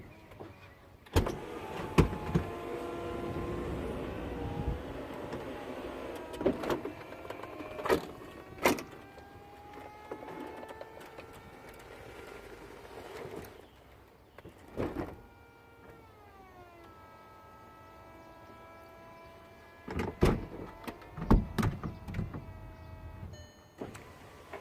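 A Volkswagen Eos convertible roof runs through its motorized cycle, electric motors whining and shifting pitch with mechanical clicks and clunks, pausing briefly before running again, heard up close.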